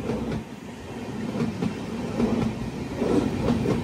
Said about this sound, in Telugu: ఇప్పుడు మన ట్రైన్ బయలుదేరుతుంది.